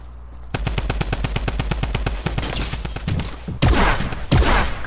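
Rapid automatic bursts from a drum gun in Fortnite, loud and close, with a sustained string of evenly spaced shots followed by two shorter, denser volleys.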